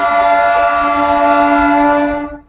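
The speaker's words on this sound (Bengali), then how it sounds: "ট্রেন আসছে, কোন ট্রেন এটা সেটাই দেখা" A local train on the Banihal line sounds a long, loud, steady horn close by, the tone holding for about two seconds before cutting off, with a low rumble beneath it.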